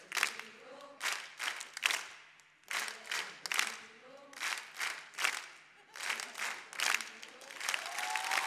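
Bursts of audience applause at a music show rising and falling in waves, with a voice calling out between the rounds of clapping.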